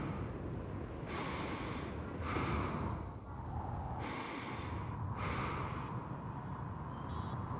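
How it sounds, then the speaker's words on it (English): Heavy, rhythmic in-game breathing from the horror video game Psycho Shock: four sharp, loud breaths spaced about a second apart, each a rasping gasp over a constant low background hum. "Do you like the breathing sounds, Gibbs?"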